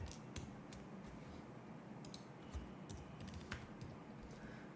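Fingers tap on a computer keyboard, giving soft, scattered keystroke clicks at an uneven pace, faint and close against a quiet background hum with no talking.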